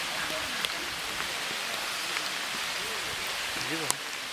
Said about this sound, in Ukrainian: зараз дощ